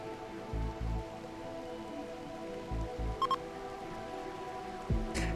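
Rain falling in the colony sim game Rimworld, a steady soft hiss of drops spread across the whole stretch, with a few low thuds and faint clicks from the game over it.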